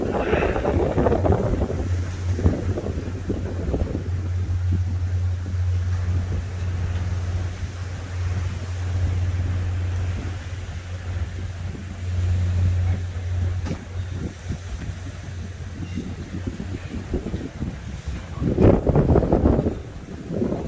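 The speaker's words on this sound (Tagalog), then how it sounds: "Ang hangin." Steady roaring wind from a sandstorm in Saudi Arabia buffets the microphone throughout, with a low constant rumble underneath and a louder gust near the end.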